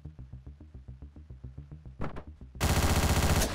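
Rapid evenly spaced assault rifle fire from the top-down video game Hotline Miami rattles in a steady burst, followed by a couple of sharp cracks and then a dense, loud sustained roar of gunfire.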